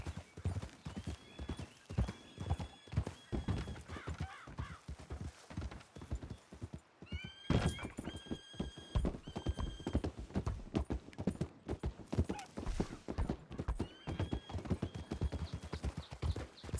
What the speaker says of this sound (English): He's a bit of a skittish horse, so. He is a beautiful horse.